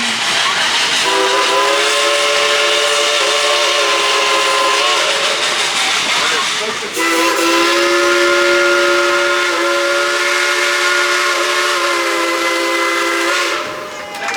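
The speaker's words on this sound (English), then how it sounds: "That engine's got some lungs." A loud steam locomotive whistle, Klondike Katie at Dollywood, blows in two long sustained blasts, a brief pause between them, over a constant hissing rush of steam.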